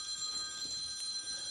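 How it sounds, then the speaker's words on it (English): A mobile phone rings with a faint, high electronic chiming tone during a private hoof dissection seminar, steady bright pitches held over low room noise, with no voices. "My phone's gonna ring off the hook today."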